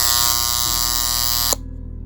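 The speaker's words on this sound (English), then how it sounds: "It was a Dover stop switch, and I put a buzzer on the side," A buzzer fitted to a Dover stop switch from a Hitachi escalator pit drones loudly and steadily, its harsh electric buzz shifting partway through before cutting off to a lower hum.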